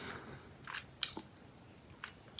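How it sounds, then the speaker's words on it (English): SweeTARTS Ropes candy being chewed close to the microphone, soft sticky mastication with a few sharp clicks and bites, quiet and intimate with no talking. "And then when you start biting into it, start chewing on the rope, everything just break loose."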